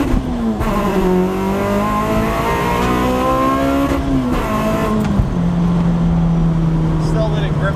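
Supercharged front-wheel-drive car engine held at high revs, a loud steady drone with rising and falling harmonic pitch sweeps, heard from inside the car with a voice talking over it.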